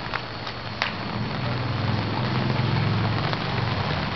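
Rain falling steadily, a dense even patter with a few sharper drops near the start, close and continuous with no voices.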